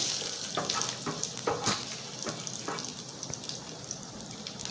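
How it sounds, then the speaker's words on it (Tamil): Garlic cloves and a little ginger fry in a pan for mint chutney, giving a soft, steady sizzle with a few louder crackles and light stirring scrapes. The sound is close and fairly quiet. "ரெண்டு பல் பூண்டு சின்னதாக ஒரு இஞ்சி போட்டு அதையும் கொஞ்சம் நல்லா ஃப்ரை பண்ணிக்கலாம்"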